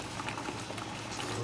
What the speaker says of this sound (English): And I'm gonna reduce the heat.